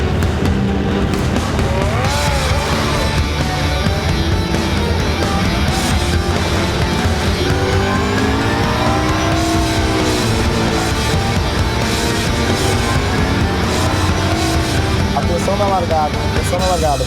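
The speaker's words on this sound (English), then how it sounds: "Cars coming into final corner. They're with the starter, and we're green." Race cars roar into the final corner and accelerate away at the green-flag start of a Blancpain Sprint Series main race at the Algarve circuit, loud and continuous with rising engine notes, under a commentator's voice.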